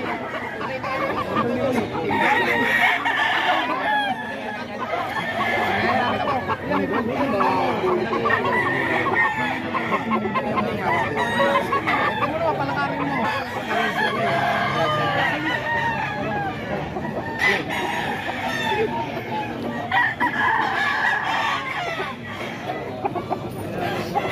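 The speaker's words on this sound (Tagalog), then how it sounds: "Maraming manok si Kuya Hapon mga ka-idol" Chickens cluck and a rooster crows among them, with people chattering in the background throughout.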